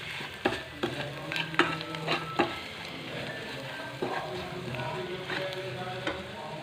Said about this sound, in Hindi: इन्हें भी अच्छे से मसाले में मिक्स कर लेंगे।